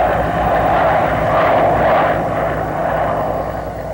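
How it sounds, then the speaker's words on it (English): Huey transport helicopters fly low over desert Ranger training with an escorting Huey Cobra attack helicopter, giving a loud, continuous rotor and engine roar that swells slightly in the middle, with no speech. "The Huey transport helicopters fly very low to simulate evading enemy radar."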